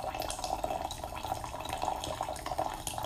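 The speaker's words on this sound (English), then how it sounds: "Doing the high pour here so it cools down a fair amount." Tea poured from a height into a cup, a steady faint liquid splash running continuously with soft dripping, fairly quiet and close.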